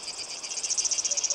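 Cicadas in a Greek landscape chirp in a loud, steady buzzing drone that breaks into a rapid pulsing rhythm toward the end, close and without voices.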